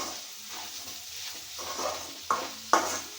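Fenugreek leaf and moong dal curry being stirred in a pan with salt and chili, soft sizzling under a few scraping strokes that end in two sharp spoon knocks against the pan, nearby and without speech.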